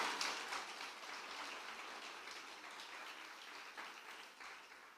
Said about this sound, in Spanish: Dale un aplauso, hazlo fuerte